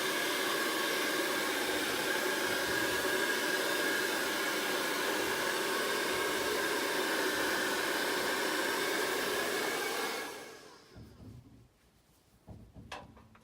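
A handheld blow dryer runs with a loud, steady, close airy roar for about ten seconds, then switches off, leaving faint small handling noises in a quiet room.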